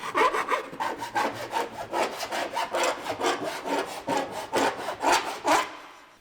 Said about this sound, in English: You can take your file, and you just want to get any burrs that are kind of sticking out.